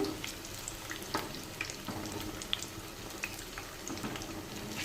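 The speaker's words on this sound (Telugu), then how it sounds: "ఇలా మొత్తం కలుపుకుంటే ఇలా డీప్ ఫ్రై చేసుకుందాము" Onion-stuffed mirchi bajji deep frying in hot oil, making a soft, continuous bubbling hiss with scattered small crackles and pops, fairly faint and without speech.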